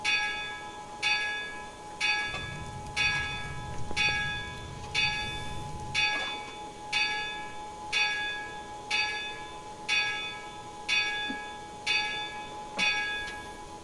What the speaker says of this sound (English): Bell's not a half bad bell sound.